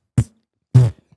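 Two short fart sound effects in a row, the first a brief low burst and the second a longer, louder buzzing blast trailing into faint sputters, presented as a Target fart.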